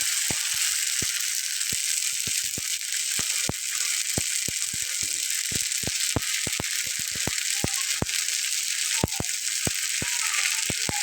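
A ladleful of wheat-flour batter sizzles in a hot frying pan with a loud, continuous hiss and scattered sharp crackles and pops, close and steady for the whole stretch, with no talking.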